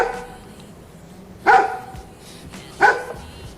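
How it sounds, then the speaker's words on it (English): A dog barks twice, each bark loud, sharp and close, spaced about a second and a half apart over quiet background hiss with no talking. "I'm gonna go kill that fucking dog."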